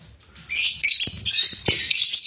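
Pet cockatiels, lovebirds and conures at a home bird sale call in a close, busy chorus of shrill chirps and squawks, with a few sharp clicks between.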